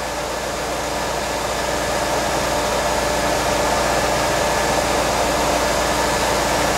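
The air pump kicks on in an LT1 engine of a C4 Corvette after an intake manifold gasket replacement, producing a loud, steady, unbroken whooshing drone close by with no gaps.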